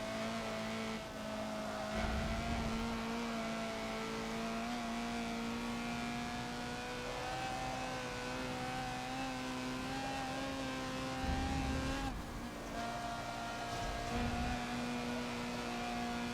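A Honda CRX racing around Sonoma in Forza, its engine droning steadily with rising and falling revs through gear changes and a few brief dips, loud and continuous with no talking.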